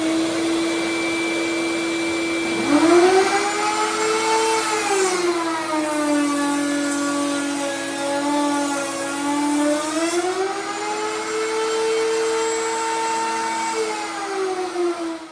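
A router on a router table cuts a test piece of wood at full depth: a steady, loud motor whine whose pitch sags as the bit bites into the wood and recovers afterward, with no talk.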